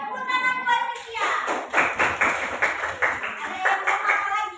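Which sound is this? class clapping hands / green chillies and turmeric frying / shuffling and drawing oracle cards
class clapping hands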